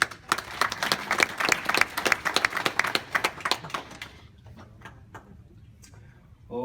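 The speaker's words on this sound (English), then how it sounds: "So let's give him a round of applause." Wedding guests applaud the MC, a lively burst of clapping for roughly four seconds that thins to a few scattered claps before fading into near quiet.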